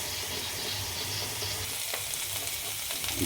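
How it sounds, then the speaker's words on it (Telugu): Steamed onion pieces being stirred into a pan of radish curry with tamarind juice, giving a steady close sizzle and frying hiss with faint scraping of the stirring. "స్టీమ్ చేసినటువంటి ఉల్లి ముక్కలు వేయాలి ఒకసారి చక్కగా కలపాలి"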